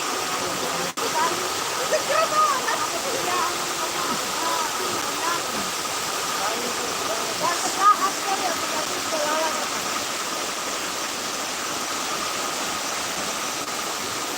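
Floodwater rushing during heavy rain in Maros: a steady, dense roar of water flowing continuously throughout, loud and close, with a brief thump near the start.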